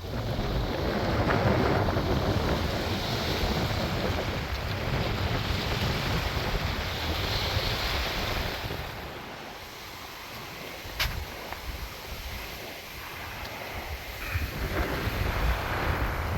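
Steady, broadband wind roaring and buffeting the microphone on a Danish sea shore, with surf-like rushing underneath; a brief dip in the middle before the gusts pick up again.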